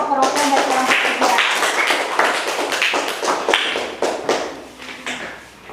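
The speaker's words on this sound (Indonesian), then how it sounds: "Ayo tepuk tangan juga untuk kelompok perwakilan dari kelompok 3." Classroom applause for a student group, a burst of many hands clapping in an elementary school class, steady and fairly loud at first, then thinning and fading toward the end, with some children's voices mixed in.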